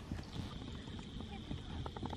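Rhythmic hoofbeats of a horse cantering in a riding lesson, a steady three-beat clip-clop close by, with an instructor's voice talking over it.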